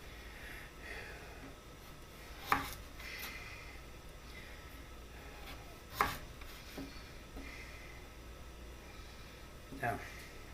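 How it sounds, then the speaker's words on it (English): Kitchen knife slicing through a carrot on a cutting board, three sharp chopping hits spaced a few seconds apart, close and clear over a low room hum with a person talking. "we'll just cut it into slices"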